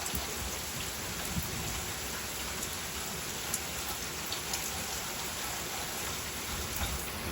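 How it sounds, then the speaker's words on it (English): Heavy, steady rain pours outdoors in a spring storm, a dense, even hiss of drops on surfaces with faint distant rumbles, with no talk. "Oh, more heavy rainfall, people."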